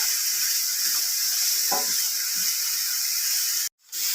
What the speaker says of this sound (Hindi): तकरीबन 2 से 3 मिनट के लिए आपने इसको फ्राई करना है